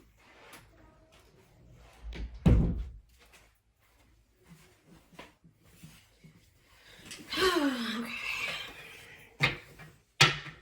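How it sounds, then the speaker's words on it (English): A door is shut indoors with a heavy close-range thud, followed by quieter shuffling, breathing and movement, then a couple of sharp knocks near the end. "I gotta close the door"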